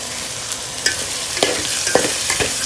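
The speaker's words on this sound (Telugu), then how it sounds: "ఇప్పుడు మసాలా వేగనిద్దామండి." Masala for khichdi sizzles steadily in a hot pan with chopped coriander, while a spoon stirs and scrapes it in a few close, irregular strokes.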